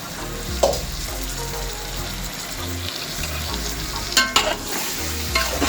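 Chicken with masala is stirred and fried in a pan for biryani, a continuous close sizzle broken by scraping stirs and a few sharp clanks of the utensil against the pot.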